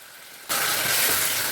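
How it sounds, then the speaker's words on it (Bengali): Onion, garlic, ginger and spices hit hot oil in a pan with a sudden loud sizzle after a quiet moment, then a steady close, bright frying hiss with no voices. "সব মশলা পেঁয়াজ রসুন আদা সব একটু কষিয়ে নিচ্ছি।"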